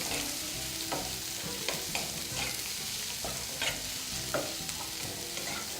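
Onions sizzle steadily in a hot pan, with periodic scraping and stirring strokes cutting through the constant frying hiss.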